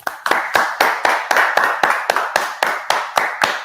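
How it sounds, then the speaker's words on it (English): Close, crisp hand claps for an award winner come in a steady, even rhythm of about four sharp claps per second, sounding like only one or a few people clapping. "Round of applause for the big man."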